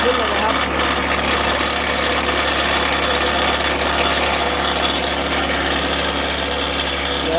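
A motor vibrates a mold of wet concrete for pointed barbed-wire fence posts, giving a steady, loud, dense rattling drone that runs unbroken throughout.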